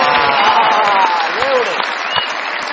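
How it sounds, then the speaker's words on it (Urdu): Studio audience applause on a television comedy show, a dense, loud wash of clapping held throughout, with voices and a few tonal sounds mixed in. "بہت ساری تالیاں شمس بھائی کے لیے"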